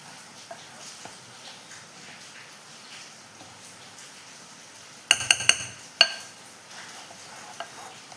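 Hot dough worked and mixed in a pot, soft quiet stirring and squelching through most of it, then a brief burst of clinking utensil knocks against the pot in the middle.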